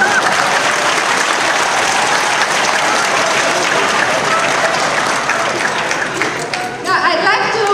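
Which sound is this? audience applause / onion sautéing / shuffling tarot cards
audience applause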